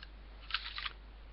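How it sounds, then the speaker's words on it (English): Cocking handle of an airsoft USP Tactical pistol tugged back, giving a quick burst of small mechanical clicks and scrapes, faint and close, with no talking. "Then tug back the cocking handle"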